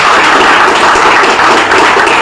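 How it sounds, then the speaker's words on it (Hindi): Loud, dense applause from a rally crowd at a pension protest, a steady wash of clapping filling the whole stretch without pause. "अपने लिए तो जोरदार ताली बजा सकते हैं।"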